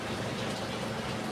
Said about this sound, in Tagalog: Mahina lang yung ulan guys, pero medyo malakas ang hangin.